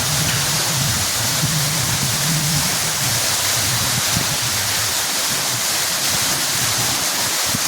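Water gushes from a borewell pump in a loud, steady broadband roar like a waterfall, continuous and close, with no talking.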